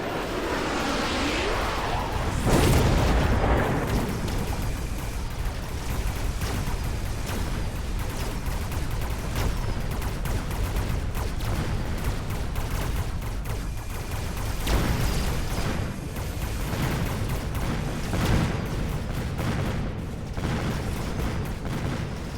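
Missile Strike explosions during a round of a video game battle: a long stretch of dense crackling blasts and rumbling booms, with a big hit near the start and more bursts later, continuous and loud.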